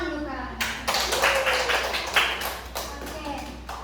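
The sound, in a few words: children clapping hands in classroom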